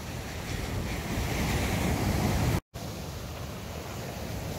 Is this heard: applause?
no